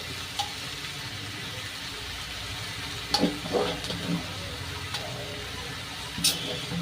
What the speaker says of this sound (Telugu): ఇంకా కొంచెం నూనెలో మగ్గనివ్వాలి అంతే